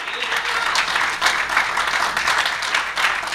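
Worshippers at a Sunday church service clap together in a sustained round of applause, with voices scattered through it.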